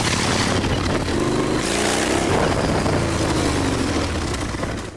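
A motorcycle engine roars steadily during a ride, a loud continuous drone with rising and falling pitch and strong wind rush over the microphone.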